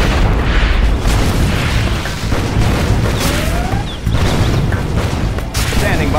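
Tomahawk cruise missile strikes in C&C Generals Zero Hour land as a dense run of loud booms and bursts, continuous battle noise with sharp thuds around the two- and four-second marks.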